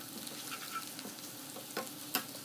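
Whole black cardamom pods and black peppercorns crackle softly in hot oil, a faint steady sizzle broken by a few sharper pops and spits near the end.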